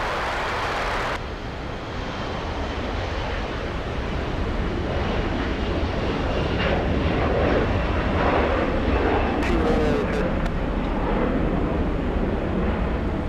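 Heavy airliner departing at LAX, a loud, broad roar of jet engines holding steady for several seconds with no voices over it.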